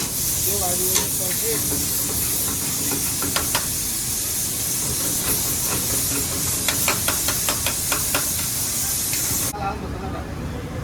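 Onion, garlic and curry leaves sizzling in hot oil for shev bhaji at a roadside dhaba kitchen, a loud hissing spray with sharp clinks of a ladle, busy background voices throughout.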